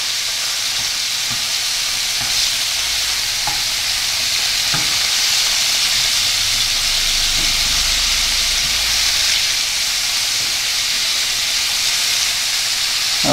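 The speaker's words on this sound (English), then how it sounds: "make sure that this is well browned off" Meat browning in a hot pan for a Lancashire hot pot gives a steady, loud sizzle and frying hiss that runs throughout, with occasional soft stirring scrapes and no voices.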